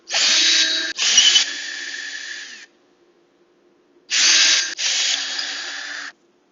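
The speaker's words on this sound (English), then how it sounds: "When you grab a 3/8 drill bit, and you want to just drill on your punch." A power drill with a 3/8 bit whines loudly in two long runs, each with a brief stutter near its start, separated by a few seconds of silence.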